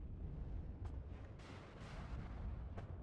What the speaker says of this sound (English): AMX firing again.